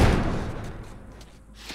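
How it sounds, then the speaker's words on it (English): A door being barricaded in The Last of Us Remastered, a heavy slam and thud at the start with a rumbling tail that fades, followed by a faint knock near the end. "Barricade the door."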